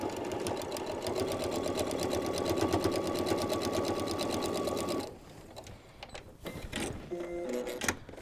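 A sewing machine stitches a bow clutch bag in one steady, fast, close run lasting about five seconds, then stops and leaves softer handling rustles and clicks.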